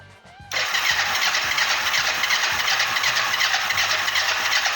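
A Kawasaki GPZ 500 cafe racer motorcycle with a starting problem cranks with a quick whine, then fires into a loud, steady, close running engine with a regular pulsing beat.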